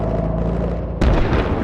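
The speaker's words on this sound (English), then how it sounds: "Explosions and gunshots erupt, sending the crowd scurrying in all directions." Explosions and gunshots in the video game Girls' Frontline: a steady loud rumble of combat noise breaks into a sudden heavy boom with a crackling burst, close and dense.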